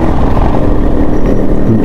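A legendary motorcycle's engine runs loud and close, a thick, steady low rumble with no letup.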